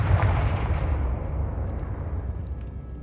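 A Confringo explosive spell goes off in Hogwarts Legacy as a single booming blast with a rumbling, fading tail.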